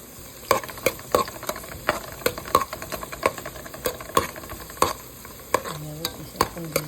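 Onions fry in oil with cinnamon sticks, cardamom and cloves for chicken biryani, under a steady close sizzle, while a spatula scrapes the pan in regular strokes roughly every half second.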